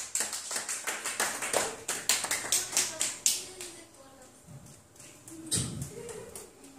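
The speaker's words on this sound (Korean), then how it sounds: "하나님께 영광의 박수 올려드립니다." A church congregation breaks into brisk, dense applause during a worship service, many hands clapping rapidly at close range before it fades out and a voice speaks briefly at the end.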